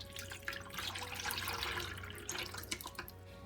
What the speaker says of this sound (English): So now we're going to pour it into our pitcher.